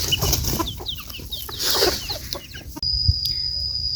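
Chickens near a pen cluck in quick, repeated calls close by, with several birds overlapping, then a high steady tone cuts in near the end.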